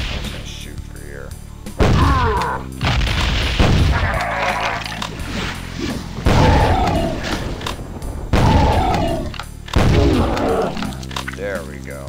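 Doom 2 weapons fire in repeated heavy, punchy blasts, about five bursts spaced a second or two apart, loud and close with someone talking between them.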